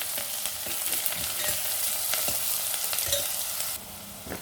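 Three medium onions frying in oil in a pan for a Sindhi dish, giving a steady, close sizzle with light crackles and occasional stirring scrapes.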